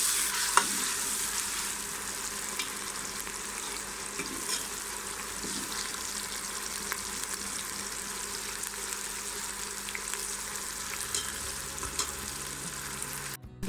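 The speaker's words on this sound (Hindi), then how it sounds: "और 2 से 3 मिनट के लिए अच्छी तरीके से भून लेंगे।" Ginger garlic paste frying with onions in hot oil, a steady, close sizzle with constant crackle and the scrape of stirring running throughout, no voices.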